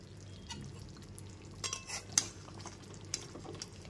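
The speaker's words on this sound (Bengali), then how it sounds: "এবার আমি ঢাকনাটা খুলে দেখে নিচ্ছি" A lid comes off a pot of chicken in gravy cooking over a low gas flame, giving a few quick, close metallic clinks and scrapes over a soft, steady simmer.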